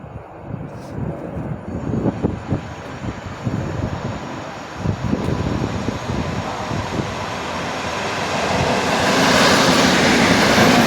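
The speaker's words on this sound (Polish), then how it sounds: "No i wjeżdża EN57 AKM." An EN57 AKM electric multiple unit pulls into Warszawa Włochy station, a loud rumbling roll of wheels and rail clatter that swells into a broad hissing roar toward the end, with no talking.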